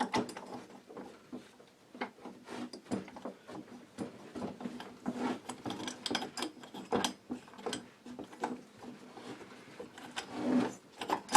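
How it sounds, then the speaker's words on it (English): Small clicks, scrapes and metallic rattles from a part being slowly wiggled off a 49cc pocket bike engine, an irregular series of quiet close taps and knocks without talk. "Don't try to force it, just slowly wiggle it off."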